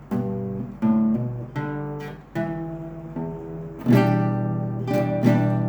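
A slow guitar riff from a song intro, with plucked notes and ringing chords, each phrase starting with a firm attack and sustaining, played alone at moderate volume.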